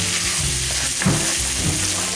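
A sauce of Worcestershire, dried parsley, basil and garlic powder bubbles and sizzles steadily in a pan, with a few soft stirring scrapes up close.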